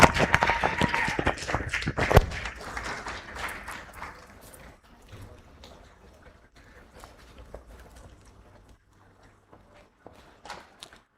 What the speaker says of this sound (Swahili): makofi mengi tena kwake